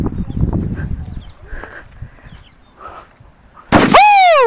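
A paper Diwali firecracker bursts with a sudden loud, sharp blast near the end, trailed by a ringing, falling whistle-like tone, after quiet scuffling and handling noises.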